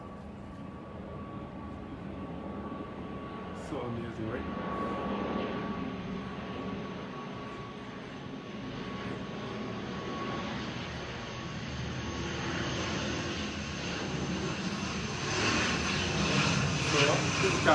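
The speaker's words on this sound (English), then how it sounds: "Another plane coming in as well." A Caribbean Airlines airliner flies in to land near Christ Church Parish Church in Barbados, its engines a steady, moderately distant roar that swells toward the end, with a person talking over it.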